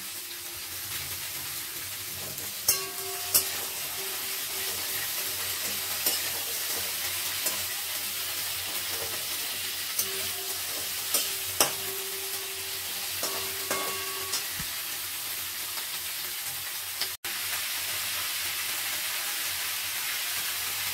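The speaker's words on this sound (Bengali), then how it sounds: "সবজিটা দিয়ে একটু ভেজে নিতে হবে" Vegetables for palak chorchori (eggplant, beans, pumpkin and potato) frying in a pan, a steady close sizzle broken by occasional scraping clicks of a stirring spoon, with no talking.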